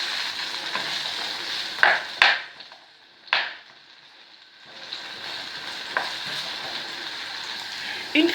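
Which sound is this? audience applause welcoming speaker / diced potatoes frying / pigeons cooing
diced potatoes frying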